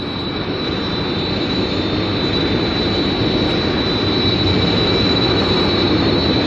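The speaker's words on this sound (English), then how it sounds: "confirm have located interceptor jet type J-17" A J-17 interceptor jet roars past in a steady, unbroken wash of engine noise with a high whine running through it, loud and continuous throughout, with no talk.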